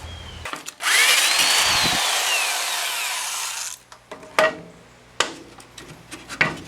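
A drill with a 1.5 inch hole saw bites into a wooden board, a loud steady whine for about three seconds that then stops, followed by scattered knocks and clatter as the pieces are handled.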